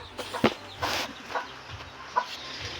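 A chicken gives scattered, soft clucks, four or five brief calls spread irregularly over a few seconds against quiet background noise, with no voices.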